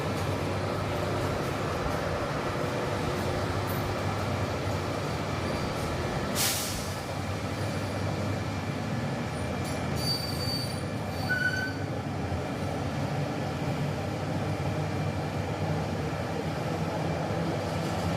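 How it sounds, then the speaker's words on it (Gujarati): A Bhuj to Rajkot daily special train pulls out of the platform, heard as a steady loud rumble of rolling wagons with brief high wheel squeals and a short hiss. "અહીંયા તમે જોઈ શકો છો ડિપાર્ચર થઈ રહ્યો છે આપણી ટ્રેનનું."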